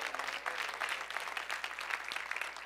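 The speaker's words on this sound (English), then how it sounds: "Give God a hand clap for learning God's word." A church congregation claps their hands together in a dense, continuous burst of applause, many hands at once, heard from a moderate distance at low level for a few seconds.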